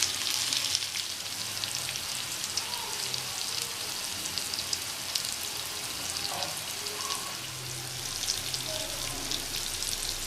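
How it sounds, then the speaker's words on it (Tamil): Mushrooms frying in a pan with both sides turned, a soft, continuous sizzle with faint crackles and occasional light pops, fairly quiet and steady throughout. "இனி அந்த சைடு நல்லா ஃப்ரை ஆகட்டும்."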